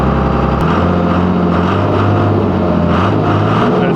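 A Cummins diesel truck engine idles loudly up close, its steady rumble rising and falling in slow surges without any change in throttle, a fault.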